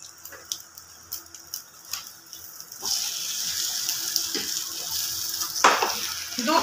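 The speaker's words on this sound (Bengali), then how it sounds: "দু পিট এরকম ভালোভাবে ভেজে নিলাম" A folded egg paratha fries in a pan, first with scattered clicks and handling taps, then a steady hissing sizzle that swells near the end, close and moderately loud, with no talk.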